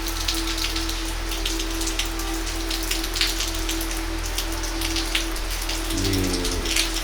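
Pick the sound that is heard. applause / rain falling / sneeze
rain falling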